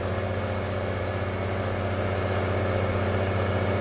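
A tractor engine in a farming video game drones at a steady idle, a low, even, humming rumble with no change in pitch or loudness throughout.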